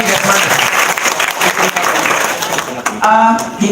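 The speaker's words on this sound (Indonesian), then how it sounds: "Tepuk tangan dong" A gathered group of people applauds loudly and keeps clapping throughout. A few voices and crowd noise cut through near the end.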